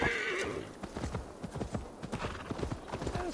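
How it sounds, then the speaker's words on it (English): A horse gallops in Assassin's Creed Valhalla, rapid clip-clop hoofbeats in a steady rhythm with a whinny near the start, loud and close with no speech. "Where's my horse?"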